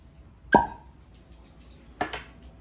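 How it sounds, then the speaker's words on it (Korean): A Monkey Shoulder whisky bottle being opened: a crisp cork pop, then a second softer squeak and pop as the stopper comes free, close and clear in a quiet room. "코르크 소리는 역시 기가 막히네요"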